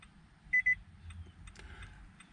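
An OBDSTAR X300 key programmer connected to a 2016 Nissan Altima gives two short, quick electronic beeps over a faint background hum, followed by softer clicks.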